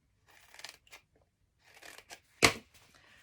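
Scissors snip through foam pad strips for card making, a few soft, close cuts ending in one sharper, louder snip.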